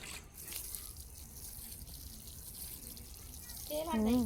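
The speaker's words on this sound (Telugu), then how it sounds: "ఇప్పుడు నీళ్ళు పోసుకోవాలి మళ్ళీ" Water pours onto freshly seeded soil in a steady, close, continuous splashing flow, and a voice briefly comes in right at the end.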